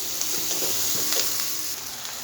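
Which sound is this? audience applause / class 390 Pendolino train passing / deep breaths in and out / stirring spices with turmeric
stirring spices with turmeric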